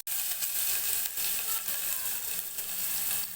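Garlic and ginger sizzle in hot oil already crackling with panch phoron spices, a dense, steady frying hiss that starts abruptly and continues up close without speech.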